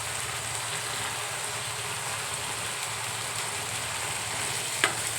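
Masala curry with a little added water bubbling and sizzling in a pan on a gas stove, a soft continuous crackle with one brief sharp clink near the end.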